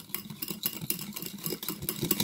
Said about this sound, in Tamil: இப்போ இதை வந்து நல்லா விஸ்க் வச்சு